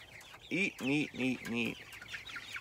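Several clucks from chickens drinking from horizontal nipple waterers, four distinct calls in quick succession, close and fairly loud, with faint background noise between them.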